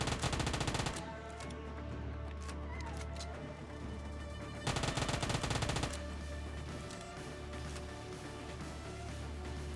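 Gunfire in the mobile battle game PUBG Mobile finishes off a knocked-down bot: two loud bursts of rapid automatic shots, one at the start and another midway, over a steady in-game background.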